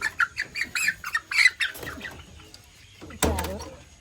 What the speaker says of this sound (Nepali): कुखुराहरू यहाँ यता पो